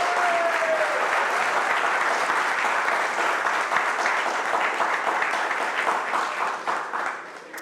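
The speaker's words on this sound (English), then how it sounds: "So I request each one of you to give a big round of applause." Audience at a university day ceremony breaking into applause, a dense, loud wash of clapping from a large crowd that holds steady and begins to thin toward the end.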